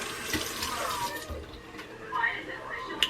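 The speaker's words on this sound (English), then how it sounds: "I'm gonna rinse it out real good. Make sure all that toothpaste is out." Water splashing and swishing as toothpaste is rinsed from the mouth at a sink with a running tap, a steady wet rush with brief spits, while a voice talks over it.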